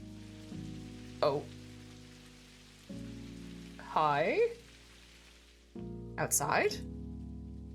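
Steady rain patters outside throughout in the video game Necrobarista, a soft hiss beneath game music and a person speaking briefly over it.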